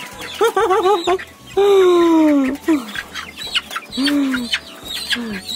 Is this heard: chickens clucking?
yes